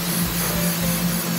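A short, steady hiss of cooking spray coats cauliflower florets on a sheet pan, close and continuous for about a second and a half over a low kitchen hum.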